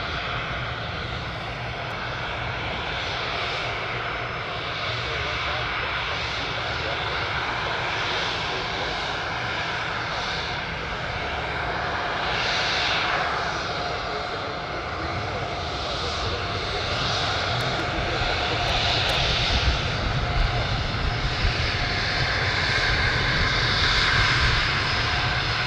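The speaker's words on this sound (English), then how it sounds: "We have Gulfstream crossing the runway first." A Gulfstream G550 jet crosses the runway at Anchorage airport, its engines giving a loud, steady roar and whine that holds for the whole stretch, with faint voices underneath.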